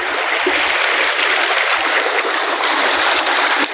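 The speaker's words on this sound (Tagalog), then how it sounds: "Ito po ang ilog ng Batangas" Rushing water of a rocky river in Batangas, Philippines, a continuous broadband wash with faint gurgles and splashes, heard close and steady throughout with no talking.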